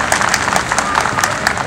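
A brief burst of steady applause from an audience at a cultural stage event, dense clapping with no break.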